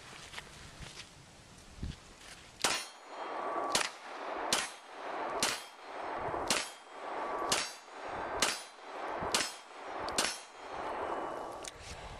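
Glock 34 pistol fired at a steady pace, about nine sharp, loud shots with metallic ringing, each spaced roughly a second apart outdoors.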